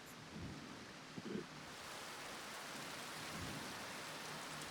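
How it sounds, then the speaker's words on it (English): Rain falls in Ishgard in the video game Final Fantasy XIV, a soft, steady hiss of rain with a few faint low rumbles near the start, quiet and alone. "Hey, look at that! It's raining in Ishgard."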